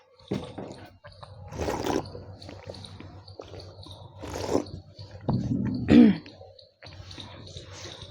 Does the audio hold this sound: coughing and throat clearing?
yes